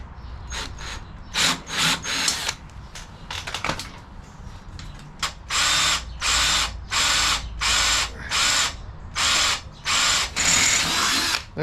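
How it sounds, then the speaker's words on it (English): A power drill boring into a Jaguar during a handbrake fitting, close and loud, at first in short irregular bursts, then in a run of steady, evenly spaced grinding pulses. "What we want to do now is just put the drill in there gently"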